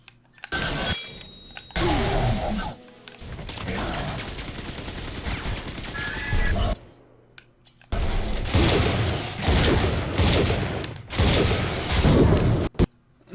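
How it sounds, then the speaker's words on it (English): Rocket explosion and gunfire in Bioshock 2 Remastered, loud bursts of shooting and booms in rapid clusters separated by short lulls, with game sound effects throughout. "Was it the explosion from the rocket?"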